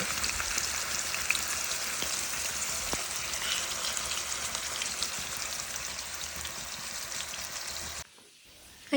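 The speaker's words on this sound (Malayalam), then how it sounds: "രാവിലെ തന്നെ മീനും കൂടി ഒന്ന് വറക്കാൻ വെച്ചിരിക്കുകയാണ്" Steady crackling sizzle of fish frying in a pan, close and continuous with no talk, cutting off abruptly near the end.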